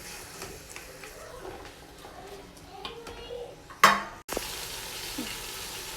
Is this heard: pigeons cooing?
no